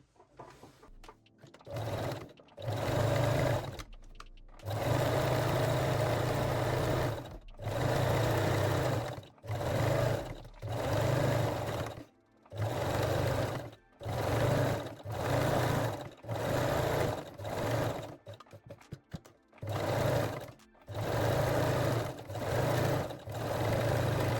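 A sewing machine stitches folded fold-over elastic on panties in a long series of short, close, buzzing runs, stopping and restarting repeatedly with brief silent gaps between them.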